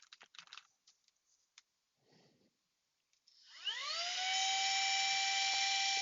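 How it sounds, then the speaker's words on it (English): Rapid typing clatters up close in short bursts, heard through a gaming headset microphone, then a loud steady whine of a rising tone takes over and holds to the end. "this is how it sounds when I am typing and speaking at the same time"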